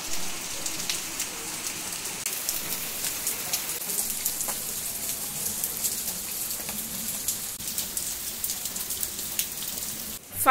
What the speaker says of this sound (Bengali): ফাইনালি বৃষ্টি স্টার্ট হলো,